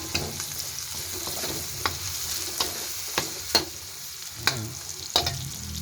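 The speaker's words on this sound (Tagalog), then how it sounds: "Mas maganda kung medyo golden brown garlic kasi mas lalabas ang aroma niya." Garlic frying in a pan until golden brown, a steady soft sizzle running throughout with occasional sharp clicks of a utensil stirring and tapping the pan, no voices.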